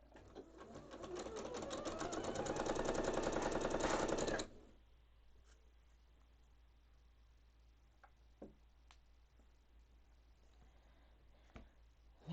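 A sewing machine stitches a quilt block in a steady, rapid run for about four seconds, then stops, leaving quiet room tone with a few faint clicks and bumps.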